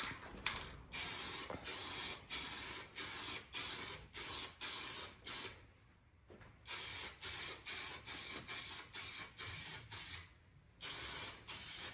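Spray gun laying down a third coat of paint in a car engine bay during touch-up prep, heard as a rhythmic series of about a dozen loud, steady one-second hissing bursts separated by short pauses, close and alone.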